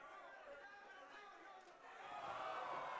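MMA fight crowd in the arena reacting, a continuous murmur of chatter and shouts that swells louder toward the end, heard beneath a commentator's voice.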